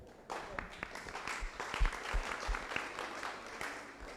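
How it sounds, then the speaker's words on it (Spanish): Applause at an assembly session on Amazonian indigenous peoples, a fairly faint, dense spread of clapping from a large room that carries on steadily for several seconds with little speech. "Un aplauso si estamos de acuerdo."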